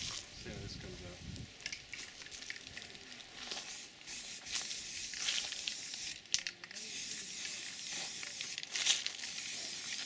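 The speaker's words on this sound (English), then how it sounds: "Spray paint, which hopefully I've got enough." A spray paint can hisses onto a metal pull-up bar in repeated bursts, close and fairly loud, with a few clicks and rattles between sprays and brief talk near the start.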